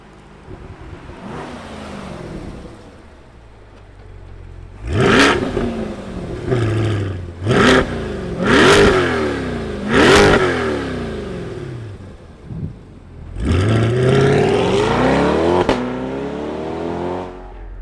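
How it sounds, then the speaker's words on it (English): A loud V8 engine in a 2020 Chevrolet C8 Corvette Z51 revs repeatedly, each blip climbing sharply then falling back to a rumbling idle, ending with a long sustained high rev. "let's hear what this V8 sounds like"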